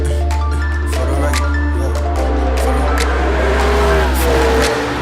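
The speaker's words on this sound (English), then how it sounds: "swapping cars with Jimmie Johnson, and me driving the Nascar for the first time" A NASCAR stock car driven at Bahrain International Circuit roars loudly and steadily up close, its V8 engine note shifting pitch as it accelerates and changes gear, with music playing underneath.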